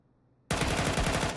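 Counter-Strike automatic rifle spray in an ESEA match: after half a second of quiet, a loud, rapid burst of gunfire erupts and rattles on steadily to the end.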